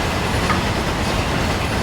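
A Class 66 locomotive hauling a freight train runs steadily along the rails, a loud, dense, continuous rumble and clatter of wheels heard from close by with no voices.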